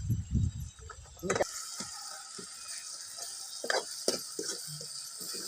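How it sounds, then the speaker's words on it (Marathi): Tomatoes with turmeric and salt fry in a pan on a wood-fired stove, giving a soft, steady sizzle broken by intermittent scraping and stirring clatter of a utensil. "थोडं हळद टाकते थोडं मीठ टाकून घेते म्हणजे टमाटर सांग छान तळते"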